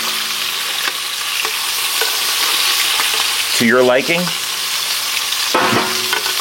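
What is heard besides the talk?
lamb frying and stirred in pan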